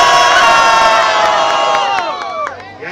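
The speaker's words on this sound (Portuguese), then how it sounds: "Muito barulho aí pra quem gostou das rimas do Zack e Daniel!" A rap battle crowd at a Grajaú freestyle semifinal cheers, shouts and whoops loudly in a dense, sustained roar that thins toward the end.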